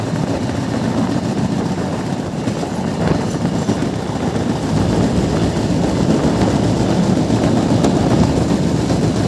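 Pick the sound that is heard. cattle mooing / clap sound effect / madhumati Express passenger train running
madhumati Express passenger train running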